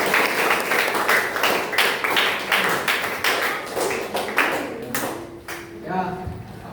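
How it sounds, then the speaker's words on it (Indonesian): A classroom of students gives a student group a round of applause, a loud run of claps that thins into scattered taps and then fades as a voice begins to speak. "Tepuk tangan dulu kelompok 1."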